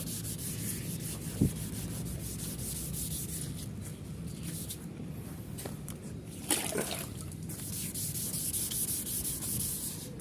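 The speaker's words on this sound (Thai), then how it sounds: "ขัดเอาคราบเหลืองมันออกครับ" Wet sanding of a yellowed car headlight lens gives a close, continuous gritty rubbing with a watery edge, running steadily throughout and marked by a couple of sharp knocks along the way.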